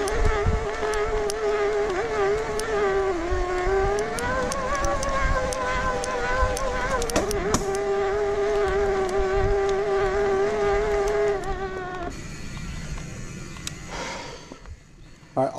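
The motor of a 2022 Specialized Turbo Levo S-Works e-bike gives a loud, continuous whining grind with a wavering pitch, holding steady for most of the stretch before thinning out near the end.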